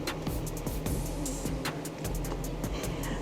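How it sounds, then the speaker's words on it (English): A golf cart rolls past at a campground, a steady nearby motor hum with light rattles and clicks that stays fairly even throughout. "a neighbor driving by in the golf cart waving"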